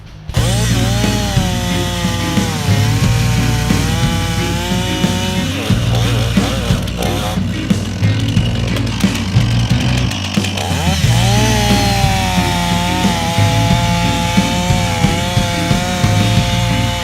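Stihl chainsaw boring into a standing tree for a felling cut, running loud and close for the whole stretch, its engine revving up and bogging down in steady waves with a brief drop in the middle.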